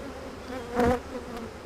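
A dense, steady buzz of many defensive honeybees close by at an open hive, with one bee droning louder as it passes near.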